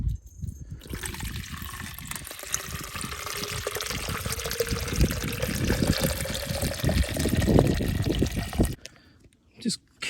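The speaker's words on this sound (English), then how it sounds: "what happens if you pour water over it" Water trickles and splashes over cracked rock at a mountain quarry, a steady, close pouring patter lasting several seconds before cutting off.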